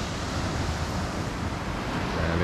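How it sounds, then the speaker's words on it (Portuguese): Strong ocean waves breaking at a small beach, Praia da Sununga, come through as a steady, loud roar of surf and wind-like rush without pause, with no talking. "aqui bate onda forte"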